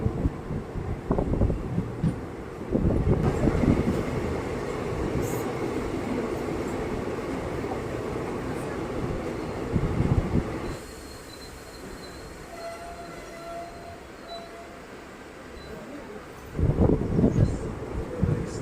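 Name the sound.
passenger train running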